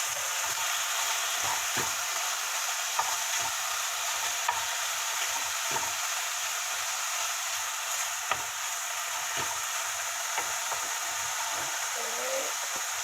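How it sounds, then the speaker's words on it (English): Bacon frying in a pan for biscuits and bacon gravy, a steady loud sizzle and hiss with scattered scraping clicks of a utensil stirring it, no talking. "we're going to give this bacon a little mix"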